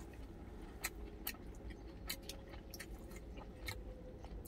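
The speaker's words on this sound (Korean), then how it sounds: "막강제육 먹어보고" Quiet close-up chewing of spicy stir-fried pork (jeyuk) with fresh geotjeori kimchi, soft wet bites and sharp little clicks at irregular intervals over a faint low hum.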